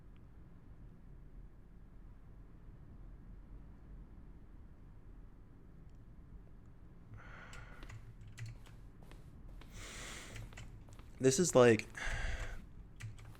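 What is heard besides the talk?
keyboard stroke button sounds in The Stanley Parable video game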